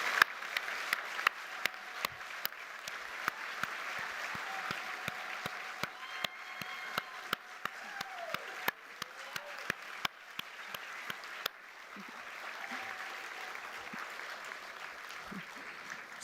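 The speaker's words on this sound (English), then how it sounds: "I think we should all give everyone a big round of applause" Applause from an audience at a university graduation ceremony for health sciences and medicine, with individual claps sharply distinct over a softer crowd wash and a faint voice and murmur underneath, continuing for over fifteen seconds.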